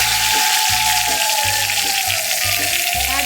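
Bay leaf and dried red chilli drop into hot oil in a pan used to fry paneer, giving a loud, steady sizzle with soft low thumps from the pan throughout.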